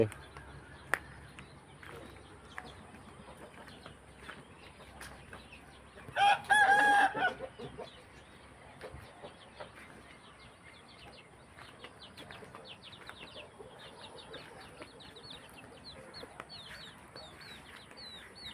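A rooster crows once, briefly and loudly, amid faint clucking and scattered outdoor noises; a person talks quietly at times.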